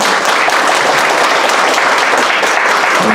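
A church congregation applauds its pastor at an eighth-anniversary and ordination worship service, with dense, steady clapping throughout at even strength and no voices heard.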